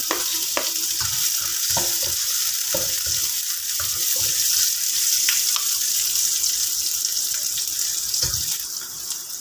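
Onion and garlic sauté in a pan while squid is being cooked, a continuous close sizzle broken by scattered clicks and scrapes of stirring, with no talking.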